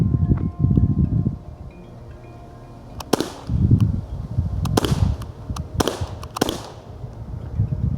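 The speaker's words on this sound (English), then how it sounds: "We're gonna go ahead and take some shots at it." Several sharp gunshots fired at a target 30 feet away, a pistol fitted with an Olight Baldr Pro R weapon light, ringing out in separated bursts with a rough rhythm over low background rumble.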